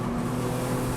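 A Toyota GT86 race car, number 27, on a circuit during a race gives a steady loud engine drone with a strong low hum for the whole second, close by, with no voices.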